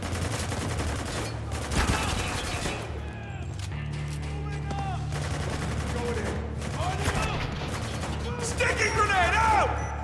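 Rapid gunfire rattles through a firefight in the game Spec Ops: The Line, with loud sustained bursts and clattering mechanical sounds across the whole stretch.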